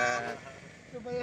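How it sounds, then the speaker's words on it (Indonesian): A goat bleats nearby at a maze garden attraction, one wavering cry that trails off and returns briefly, heard close against faint outdoor background. "Ini kambing, dekat sini ada kambing."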